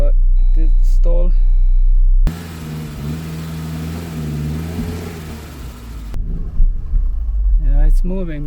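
A Saab 93 car engine runs steadily at a low idle, loud and close, with brief bits of talk before and after.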